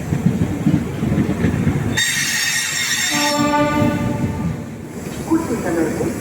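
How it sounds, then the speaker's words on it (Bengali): Rajdhani Express train pulling out of Gaya station, heard from inside the coach: a steady rolling rumble of wheels throughout, with a loud horn blast in the middle and squealing wheels over it. "গয়া থেকে ট্রেন ছেড়ে দিল গয়া থেকে আমরা বেরিয়ে যাচ্ছি"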